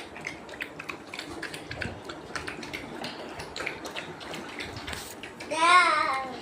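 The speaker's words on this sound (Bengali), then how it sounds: "তুই কত জল খাচ্ছিস রে? সেই থেকে জল খেয়ে যাচ্ছিস" A dog, either a golden retriever or a rottweiler, laps water in a quick, wet, rhythmic run of tongue strokes, close and fairly loud, before a sudden splashy burst near the end.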